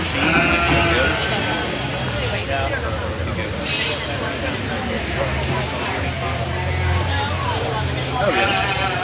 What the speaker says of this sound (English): You guys just show sheep and goats.